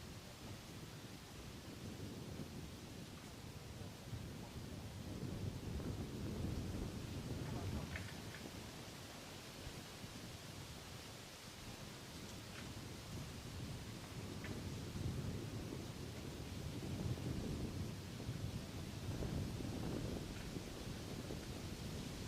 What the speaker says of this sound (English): It was quite calm, but it's starting to get a bit breezy. I'm sure you can hear it in the trees.